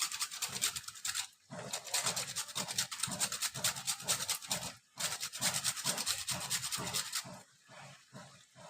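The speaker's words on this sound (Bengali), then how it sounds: "আমার কাছে জাইফল গুঁড়ো নেই বলে আমি একটু কষে দিচ্ছি" Whole nutmeg is grated by hand for a chicken curry in a series of quick, rhythmic scraping strokes, close and crisp, with brief pauses between bursts and no talking.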